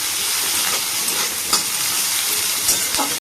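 Food sizzles loudly in a frying pan while a spatula gives a few gentle scraping turns, close and continuous until the sound cuts off abruptly at the end; no speech.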